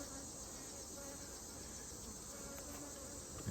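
Honeybees in a beehive, a faint steady buzzing drone that holds evenly throughout, soft and distant with no talk.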